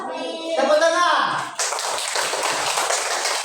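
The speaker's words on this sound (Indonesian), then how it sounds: "Tepuk tangan." Applause breaks out in a classroom, a burst of many hands clapping together that follows a teacher's spoken prompt and continues steadily for about two seconds.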